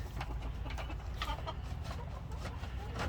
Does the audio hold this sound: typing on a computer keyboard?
no